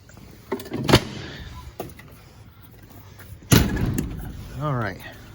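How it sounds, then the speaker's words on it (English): A shop door pulled shut with a loud slam near the middle, alongside earlier thumps and rattles, then a voice talking close by. "Let me get my door closed."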